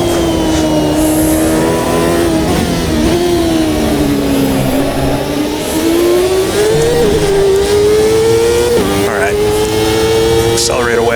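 A CART 2000 race car accelerates hard around Road Atlanta in the AMS2 racing sim, its engine note rising and falling steadily through the whole stretch while someone talks over it.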